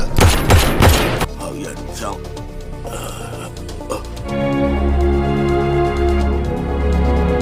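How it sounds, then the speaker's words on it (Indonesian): A shootout in a Hong Kong crime film opens with a rapid cluster of loud gunshots in the first second, then gives way to tense, sustained film music. "Chow Yuzi harus kehilangan nyawanya demi melindungi Inspektur Lau dari tembakan Tong"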